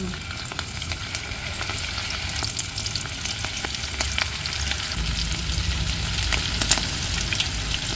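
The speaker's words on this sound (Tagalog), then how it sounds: "mapapabili ka ng calamares pag may nagpiprito" Steady crackling sizzle of squid calamares frying in hot oil, continuous and close, with small pops throughout and no voices.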